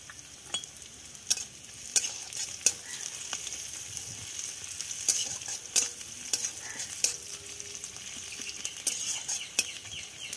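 Onions frying in oil in a pan, with a steady close sizzle broken by frequent sharp scrapes and clicks of stirring throughout, no talking.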